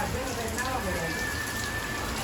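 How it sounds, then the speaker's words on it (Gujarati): Rain falls steadily in Surat in a continuous hiss, with a faint voice murmuring in the background. "આજથી વરસાદની શરૂઆત થઈ ગઈ"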